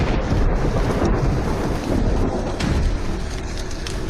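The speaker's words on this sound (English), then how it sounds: "The crew needs to shoot a rain scene. I'll give you a direct. Artificial rainfall." Artificial rain and thunder on a film set for a rain scene: dense, loud rainfall hisses continuously while deep rolling rumbles of thunder swell underneath, with no voices.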